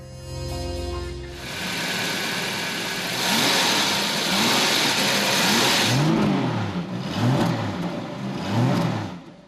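A Jaguar 5.3-liter V12 car engine idles briefly, then revs and accelerates in a series of rising sweeps, loud and close with a smooth, even tone.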